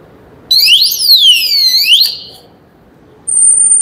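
A Fiido electric scooter's alarm sounds loud and close, a sweeping siren tone that rises and falls in one long wail, pauses, and then a steady high beep begins.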